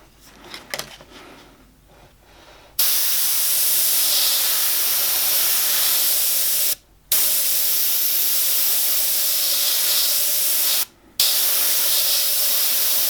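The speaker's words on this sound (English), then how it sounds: "I've still got some more spraying to do" An airbrush sprays paint onto an owl artwork in long, steady hissing bursts, close and loud, broken by two brief pauses.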